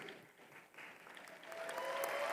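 Applause from a commencement crowd honoring graduating valedictorians, a soft diffuse clapping that swells gradually louder over a couple of seconds, with a voice faintly heard over it.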